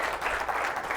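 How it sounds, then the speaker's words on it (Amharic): Applause from a seated audience at a children's day event, a steady one-second burst of many hands clapping together, close and even. "በደንብ አጨብጭቡለት እስቲ በደንብ።"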